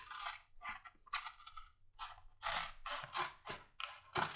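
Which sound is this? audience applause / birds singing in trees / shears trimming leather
shears trimming leather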